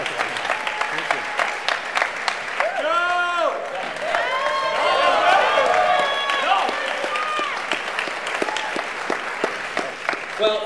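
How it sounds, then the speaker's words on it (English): A large crowd applauds a league MVP at a trophy presentation for the New York Knights at the 2024 NSL Finals, with steady clapping and cheering and a few whistles rising through the middle, heard near and loud throughout. "Everybody, please give a round of applause from France,"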